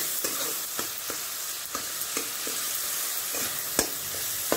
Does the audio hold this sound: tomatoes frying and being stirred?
yes